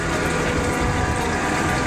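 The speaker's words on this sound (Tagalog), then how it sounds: "nagkakarga muna ako ng tubig para ma-stock ako sa mga susunod na araw" Water pumped into storage containers makes a steady, close gushing and rushing flow that stays loud and unbroken.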